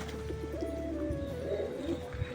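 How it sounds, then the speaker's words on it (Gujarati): Pigeons bathing and perched nearby give low, continuous cooing that wavers in pitch, fairly faint under a steady background hum, with a few soft thumps. "થોડાક નાહી છે અને થોડા કબૂતર અહીંયા બેઠા છે જોઈ લ્યો."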